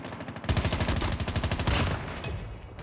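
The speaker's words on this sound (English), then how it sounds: "I got shot! I'm down!" Rapid automatic gunfire from Call of Duty Mobile, with the RUS-79U submachine gun in play. A dense, loud burst runs for about a second and a half, then gives way to scattered fainter shots and game noise.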